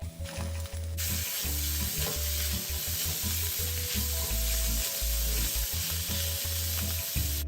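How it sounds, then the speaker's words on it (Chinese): Shiitake mushrooms and diced chicken stir-frying in a hot pan, a loud continuous sizzle with intermittent scraping and tossing of the spatula, no voices. "将加入后的食材炒匀后，就可以开始调味了"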